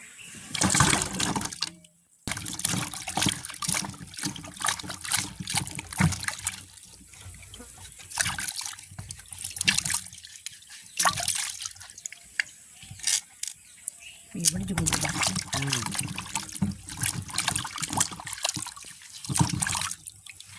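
Cassava roots are washed by hand in water outdoors in a village, with repeated splashing, sloshing and trickling in bursts, close by, and voices now and then under the water noise.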